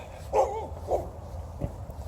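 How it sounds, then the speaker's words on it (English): A dog outdoors gives two short, moderately loud barks in quick succession, followed by a faint yip, over low background noise. "Oh, doggy."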